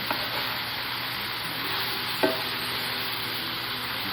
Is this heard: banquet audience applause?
no